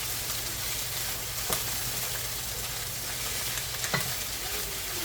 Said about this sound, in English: Let me mix it up, stir it up good.